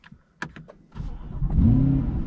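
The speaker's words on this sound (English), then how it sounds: "Let me actually turn the car on." Clicks and a short electronic chime sound inside a Chevrolet C8 Corvette, then the engine starts with a rising whir and settles into a close, rumbling idle.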